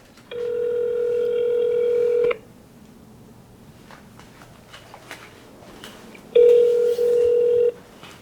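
Telephone keypad tones from a call being dialed, in two separate bursts of steady beeping with a quiet pause between them and no voices.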